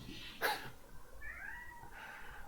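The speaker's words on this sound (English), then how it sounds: "I don't know if you can hear my cat." A pet cat lets out a drawn-out, wavering meow close by, with a sharp noise at the start of the call and a low room hum underneath.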